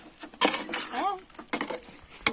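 A chicken fry is stirred in a pan set on a stone stove, giving scattered metallic scrapes and clinks of a utensil against the pan, close by, with a voice speaking briefly between the stirs.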